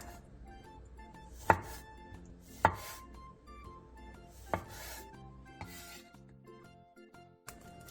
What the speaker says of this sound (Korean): 방울토마토 7개를 4등분으로 잘라주세요.